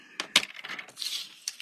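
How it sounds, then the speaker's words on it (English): Paper being cut with a cutting blade while making an origami squash fold: a few sharp close ticks and scrapes, then a short hissing slice, with no talk. "this time I'm using my cutting blade"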